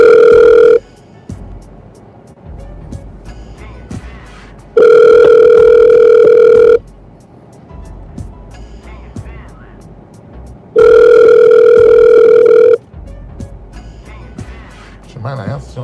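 A telephone ringback tone sounds three times, long steady electronic buzzes a few seconds apart that come through loud and close, with a voice speaking briefly in the gaps.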